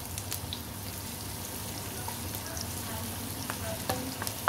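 Onion and garlic sautéing in a pan for pancit bihon guisado, a steady soft sizzle and frying hiss with occasional stirring scrapes, close by and continuous without talk.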